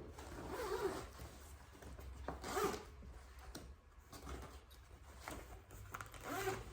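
A backpack is unzipped and opened at close range. Soft zipper rasps and fabric rustles sound faintly over a steady background hiss, with no talk.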